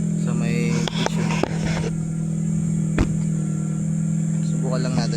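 A motorcycle engine idles steadily close by while its motor is being checked for a loose part, with a few sharp mechanical clicks and knocks over the hum and a voice talking partway through.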